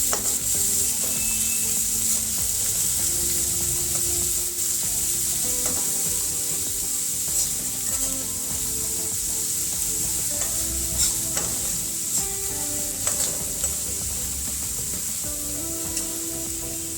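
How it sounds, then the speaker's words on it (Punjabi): Onions frying in oil tempered with cumin for dhaba-style chilli paneer, a dense continuous sizzle with scraping and stirring of the pan throughout, close and loud with no voices. "ਜੀਰਾ ਤੜਕੇ ਗਿਆ ਆਪਾਂ ਪਿਆਜ਼ ਪਾ ਦੇਵਾਂਗੇ ਪਿਆਜ਼ਾਂ ਨੂੰ ਦੋ ਤਿੰਨ ਮਿੰਟ ਬਾਅਦ ਆਪਾਂ ਉਹਨਾਂ ਨੂੰ ਭੁੰਨ ਲਵਾਂਗੇ"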